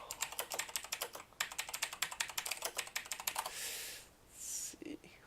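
Rapid keystrokes on a computer keyboard while entering a search for a crypto mining pool, a dense run of close, crisp clicks that slows into a few scattered taps and brief rustling near the end.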